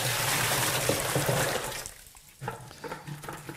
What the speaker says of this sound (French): On va commencer par verser l'eau au fond de la poubelle.